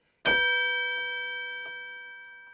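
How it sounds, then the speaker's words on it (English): A single tubular bells note played on a keyboard strikes clearly and rings out with a long, slowly fading metallic sustain, heard alone. "That's the sound, tubular bells"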